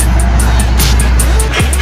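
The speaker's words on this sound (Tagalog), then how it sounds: "mag-i-start yung engine kasama yung mismong remote ng alarm" A Mitsubishi Montero engine turns over and idles after a remote start through its car alarm, a steady low rumble under a faint voice, with a brief shift in pitch near the end.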